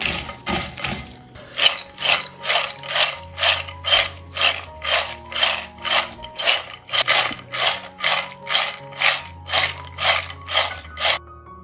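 Fried macaroni coated in garam masala gets shaken hard in a closed container, a loud rhythmic rattle of about twenty evenly spaced bursts, each a dry clattering shake, close and alone with no talk.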